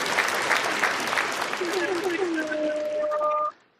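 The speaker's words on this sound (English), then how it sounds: "Let's give him a round of applause." A crowd at a boxing event claps and cheers for several seconds, the dense applause running steadily under voices and some tonal music before cutting off abruptly.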